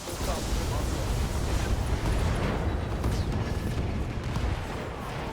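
Mech weapons firing and explosions in the BattleTech video game, a dense, continuous roar of blasts and rumbling impacts filling the whole stretch at a steady loud level.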